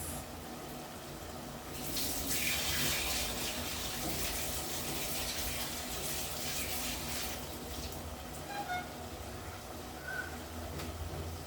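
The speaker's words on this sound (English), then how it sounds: "Let me wash my hands." Tap water runs and splashes steadily into a sink, with hands rubbing under the stream and a few light knocks near the end.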